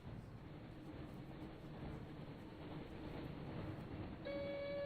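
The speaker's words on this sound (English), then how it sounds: "Looks like we found the train, Ron." A train in the PS1 game Harry Potter and the Chamber of Secrets rumbles steadily along the tracks, a loud continuous roar, with a horn sounding near the end.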